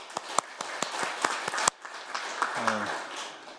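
Brief applause from a small gathering at a study session, scattered hand claps popping over a dense murmur of clapping that fades after a couple of seconds, with a low voice sounding near the end.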